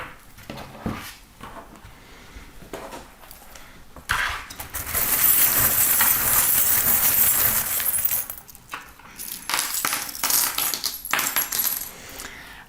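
Small metal charms cast and tumbling onto a surface for a card reading, a bright close jingling clatter lasting a few seconds amid lighter clinks and handling before and after.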